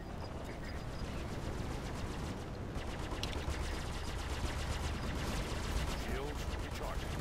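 Rapid, quiet bursts of gunfire strike a spaceship's shields in the space game Star Citizen, coming as a dense, continuous rattle of shots layered over the steady hum of the ship.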